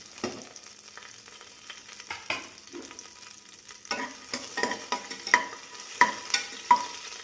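Four cut green chilies sauté in hot oil for mutton biryani, a soft sizzle broken by irregular scraping stirs that grow more frequent and louder toward the end, with no voice.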